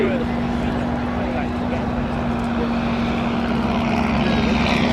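WWI biplanes of the Great War Display Team, including an Avro 504, a B2C and SE-5As, fly at an air display. Their propeller engines make a continuous, steady drone that stays loud throughout.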